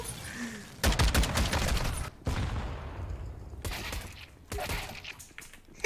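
Rapid bursts of automatic gunfire in a Call of Duty match ring out in two or three clusters, loud and close, with a brief gap and a trailing decay between volleys.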